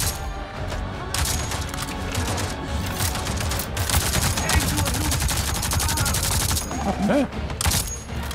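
Automatic turret gunfire in Avatar Frontiers of Pandora, a steady stream of rapid shots over a continuous loud battle din, with a brief voice speaking.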